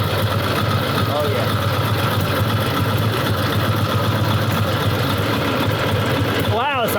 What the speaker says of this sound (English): Wow, it's idling excellent.